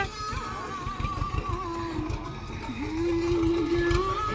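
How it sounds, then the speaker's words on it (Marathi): A tractor engine chugs nearby in a field with a low rhythmic thumping and a wavering tonal whine on top. "तर फायनली ट्रॅक्टर आलाय बघा आपल्या रानात"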